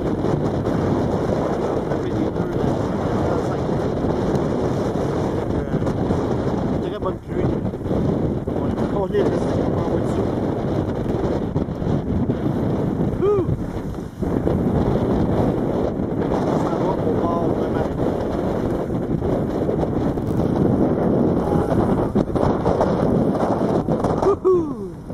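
Strong wind gusting across the microphone with waves slapping a catamaran at sea in the Antilles, a loud continuous rush and buffet that rarely eases, with faint voices at times.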